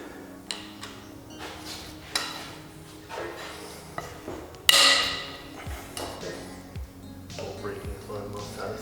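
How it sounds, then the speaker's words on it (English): Cylinder head bolts cracking loose on a Honda K24A engine with bent valves: several sharp metallic cracks, including one loud snap near the middle, amid tool clatter and a person talking. "Bolt breaking is one of the most satisfying sounds ever."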